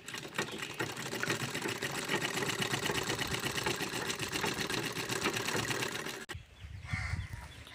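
A sewing machine runs steadily, stitching a baby frock with a continuous fast mechanical whir for about six seconds, then stops abruptly, leaving faint low handling sounds.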